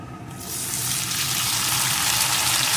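Chopped tomato and two slit green chillies hit a pan of frying chopped onions, setting off a sudden loud, steady sizzle that jumps up about half a second in and keeps going hard with no pause.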